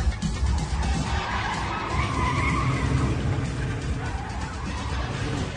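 Radio drama effect of a car skidding up onto two wheels: a sustained loud screech of tires and engine roar with shifting tones, dense and continuous for several seconds, with no voices.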